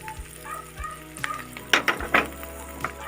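Egg and tinda curry with fresh coriander leaves stirred in a pan: a few scraping spoon strokes and soft clatters over a faint sizzle, closer and louder toward the end, with no talking.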